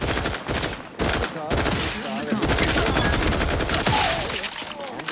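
Sustained automatic gunfire from combat in the video game The Outer Worlds 2, with loud, dense rapid bursts running almost without pause over a few seconds amid other battle noise.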